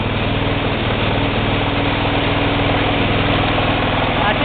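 Kohler single-cylinder diesel generator idles steadily just after a cold start, a loud, even low thumping drone that runs unbroken and close throughout.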